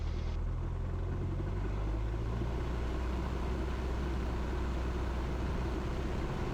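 A light aircraft engine during a throttle run-up to 1800 RPM, heard close from the cockpit: a dense, steady roar with a low rumble that holds at a constant pitch, with no speech.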